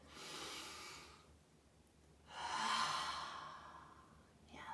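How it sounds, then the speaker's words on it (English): A group takes a slow, deep breath together during a school guidance lesson, breathing in and out in two long, airy exhalations with a quiet gap between them. "Let's all take a deep breath together."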